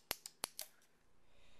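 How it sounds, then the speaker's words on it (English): Small scissors snap at the plastic fastenings on a Pullip doll's leg, making four or five quick, crisp clicks close by in an otherwise quiet room. "These are the scissors, and I cannot undo those things on her leg with these."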